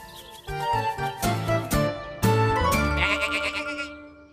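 Cartoon sheep on a farm bleat in playful bursts over bright jingling, tinkling music, several loud calls layered with the melody.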